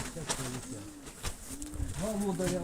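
Pigeons coo in soft, repeated low warbling calls close by, several rolling phrases overlapping, with a steady background hum and a voice talking in the clip.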